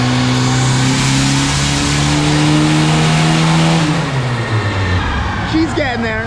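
A boosted Honda Accord engine on a dyno climbs through a loud, sustained rev during a pull, then drops off sharply and winds down, with voices of people nearby coming in at the end.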